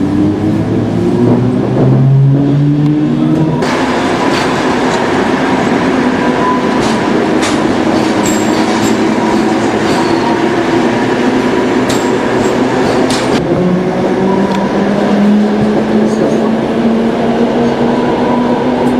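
An NS Plan T/V train departs Utrecht station, heard loud and close throughout with a rising motor whine and steady rumble as it pulls away, and no talk.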